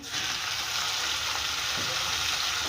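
Chopped onions, fried to light golden brown, sizzle in a pan as tomatoes go in for aloo bharta, giving a steady, close, continuous frying hiss with no voices.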